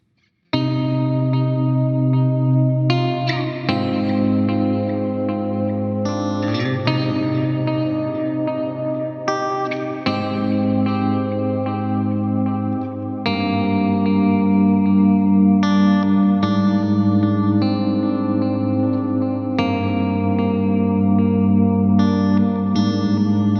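Fingerstyle electric guitar intro through a Line 6 Helix metal/djent preset with delay and effects, sustained and full, a steady ringing texture of chords shifting every few seconds for over twenty seconds with no talk.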